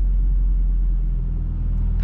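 A VW Golf 8 creeps slowly forward while parking, giving a low, steady engine rumble heard from inside the cabin. It stays even and continuous, with a short faint noise at the very end.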